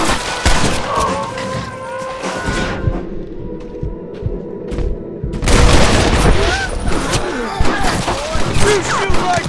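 Gunfire in Red Dead Redemption, a Wild West video game shootout, with heavy booming shots and bursts that thicken into a loud volley in the second half, while voices shout over the action.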